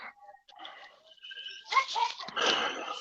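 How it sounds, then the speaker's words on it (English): A dog barks a few times at a distance with some faint background noise, and no one speaks over it. "This dog barking."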